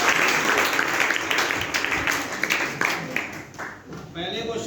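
A group of children clap together at a school Children's Day quiz, a dense burst of applause that tapers off near the end as a voice starts to speak.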